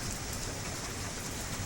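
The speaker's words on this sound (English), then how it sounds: "The rain is coming down" Steady rain pouring down, a dense even hiss of drops on surfaces, continuous and close with no talking.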